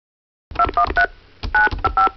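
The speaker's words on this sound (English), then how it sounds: "I'll be punching in the numbers. You listen to the tones and tell us who we're calling." Telephone keypad dialing tones sound as a rapid series of short, loud DTMF beeps, with a cluster of three, a brief pause, then four more, all alone and without talk.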